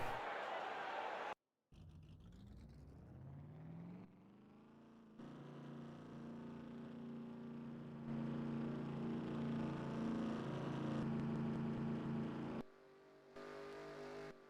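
A field of race car engines starting and idling in NASCAR Racing 2003 during an ARCA race at New Hampshire, a layered, droning roar that climbs in pitch and swells louder with several abrupt cuts.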